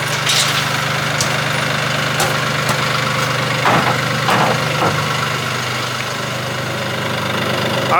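A tractor engine runs steadily while driving a loaded bucket of mild compost backwards around a garden. It gives a loud, continuous mid-low drone with faint rattles and clanks over it, and no talk.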